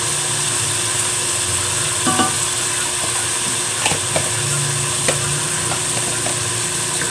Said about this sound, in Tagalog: Halo-haloin lang pong mabuti hanggang sa mag-isa ng maayos.